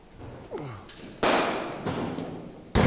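A cricket bat strikes the ball with two sharp, loud cracks about a second and a half apart, each ringing briefly; a voice is heard faintly just before the first hit.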